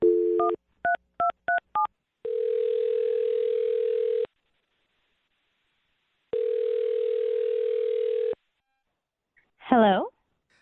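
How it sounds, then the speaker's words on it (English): Phone keypad tones beep in a quick burst of short dual-tone presses, then two long steady ringback tones separated by silence, ending with a brief rising chirp as the call connects. "I'm going to dial her phone number right now."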